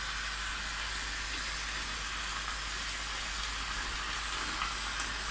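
Grated carrot for gajar ka halwa fries in about a cup of oil in a tray, giving a steady, dense hiss and crackle that holds evenly throughout at moderate volume.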